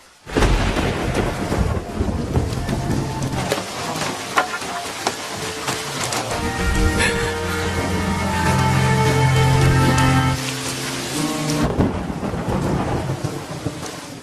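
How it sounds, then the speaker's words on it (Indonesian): A thunderstorm with rumbling thunder over steady, hissing rain in a zombie drama scene. Loud and continuous throughout, with a sustained tonal musical swell rising in the middle and fading before the end. "Tiba-tiba muncul petir yang membuat para zombie kesakitan setelah mendengar suara petir tersebut."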